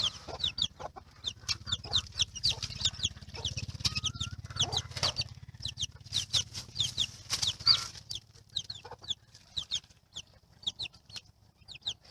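Chickens cluck in quick, repeated bursts from several birds nearby, with a low steady hum underneath and brief pauses between flurries.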